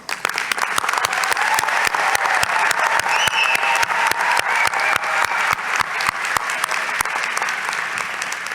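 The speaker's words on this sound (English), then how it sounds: "let us take a moment to acknowledge that with a round of applause" Graduation convocation audience applauding, a sustained, dense round of clapping from a large crowd that continues evenly from start to finish with no talk over it.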